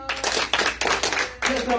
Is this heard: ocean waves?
no